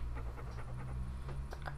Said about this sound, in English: this dog is bringing me a head. And he's barking, sounds like, huh, huh, huh.